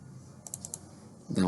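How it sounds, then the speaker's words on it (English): Several quick light clicks from a computer mouse during drawing measurement work, close and soft, followed by a louder burst of voice-like sound at the end. "Then we'll keep on clicking"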